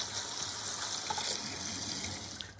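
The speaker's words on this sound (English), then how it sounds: "You can then rinse the pasta under cold water in order to stop it from sticking" Cold tap water runs steadily over cooked macaroni in a colander at a sink, a constant close rushing splash that holds through the whole stretch with no talking.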